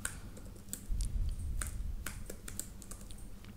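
Close, quiet clatter of a computer keyboard as code is typed, a quick irregular run of key clicks with no talking.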